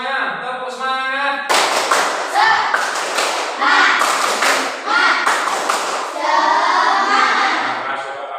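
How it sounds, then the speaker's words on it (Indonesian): A classroom of children does a rhythmic spirit clap, a teacher-led sequence of patterned claps and slaps in quick bursts, loud and close, with children chanting along between the beats. "Coba tepuk semangat semuanya."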